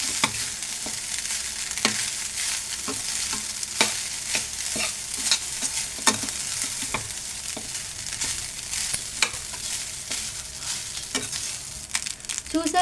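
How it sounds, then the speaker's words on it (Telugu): Cooked rice for egg fried rice is stirred in a hot pan. A spoon scrapes and clatters repeatedly over a steady frying sizzle, close up, with no voices. "ఇలా అన్నంకి ఇలా బాగా కలుపుకోవాలి."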